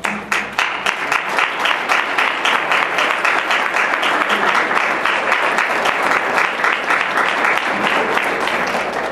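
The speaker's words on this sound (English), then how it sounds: "Give them a round of applause." An audience at a school district superintendent candidates' forum gives sustained applause, a dense, loud and steady wash of many hands clapping that lasts throughout without a break.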